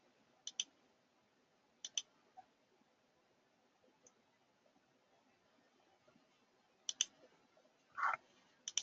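A computer mouse clicks a handful of times at uneven intervals, sharp and close, often in quick pairs, over near silence with no speech.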